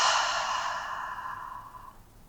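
A long open-mouthed exhale during a yoga breathing exercise, a soft breathy rush that starts fairly loud and close, then tapers away over about two seconds.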